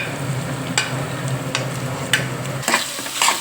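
Onion and green chillies fry in a pan for a goat blood fry, a soft continuous sizzle punctuated by several distinct stirring clacks and scrapes, close and moderate in level.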